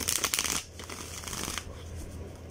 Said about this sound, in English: So they're easy to shuffle